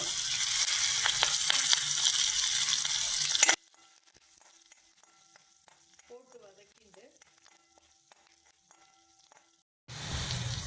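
Green chillies, ginger and curry leaves fry in a pan for jackfruit poriyal, with a loud dense sizzle that cuts off abruptly. A long quiet stretch with faint clinks follows before the sizzle returns.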